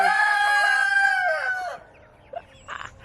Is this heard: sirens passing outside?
no